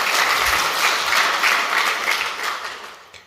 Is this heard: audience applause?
yes